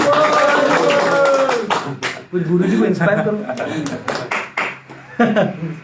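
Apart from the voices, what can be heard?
audience clapping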